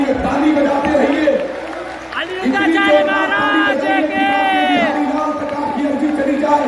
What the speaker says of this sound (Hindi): ताली बजा करके महोत्सव मनाइए, ताली बजाते रहिए।